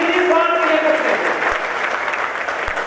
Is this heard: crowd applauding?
yes